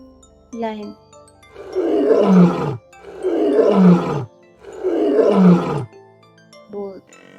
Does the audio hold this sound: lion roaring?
yes